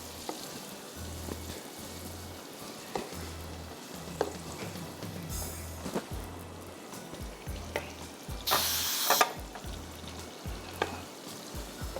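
Thick-cut onions frying in hot oil in a pan, a steady close sizzle broken by soft stirring scrapes and one brief louder burst of hissing.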